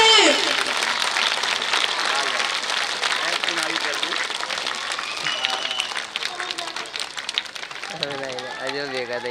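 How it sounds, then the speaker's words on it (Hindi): Children and onlookers at a school's annual sports meet clap in a dense, continuous wash. Shouting voices ride over the applause, and a voice speaks clearly near the end. "तालियों की आवाज की शुरुआत होनी चाहिए।"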